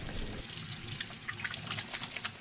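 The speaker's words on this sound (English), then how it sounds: "Now what I gotta do, I gotta wash my hand." Tap water runs steadily while hands are washed in a home kitchen, a continuous close splashing wash with small flicks and drips breaking through, no talking.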